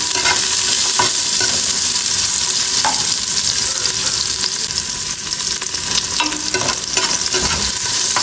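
Ginger, onion and garlic sautéing in a pan give a loud, steady sizzle with scattered scraping stirs and clicks throughout, no voices.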